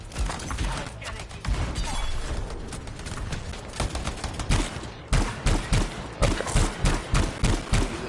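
Gunfire and explosions of battle in the video game Anthem crackle continuously, loud bursts and rapid shots layered densely, with heavier rhythmic impacts toward the end.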